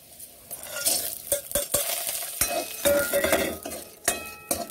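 Urad dal vadi, homemade dried lentil dumplings, frying and being stirred in oil over a medium flame in a home kitchen, with repeated clinks and scrapes of a spoon against the pan over a steady sizzle.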